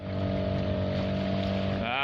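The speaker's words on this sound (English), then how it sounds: "So motor's running, going all good." A sailboat's auxiliary motor runs steadily while motoring toward a harbour basin near Sydney, a close, continuous engine drone with wind and water noise, its pitch shifting slightly near the end.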